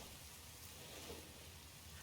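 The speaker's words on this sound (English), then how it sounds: "the rain is actually the problem. It's literally a night rain." Steady rain falls at night in the video game Elden Ring: Nightreign, a soft, continuous hiss of drops spread evenly through the whole stretch with no other sounds breaking through.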